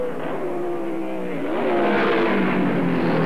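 Racing cars at speed, Fangio close behind two Ferraris in their slipstream, a continuous loud engine roar that swells and rises in pitch as they pass, with no talk.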